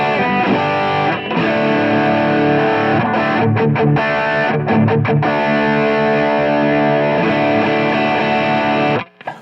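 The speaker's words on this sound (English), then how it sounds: "I can engage this tube screamer if I want some really saturated, really gnarly overdrive tones." An electric guitar plays through a Tube Screamer overdrive pedal on a church pedalboard, producing loud, saturated, gritty sustained chords with a few brief breaks before ending abruptly.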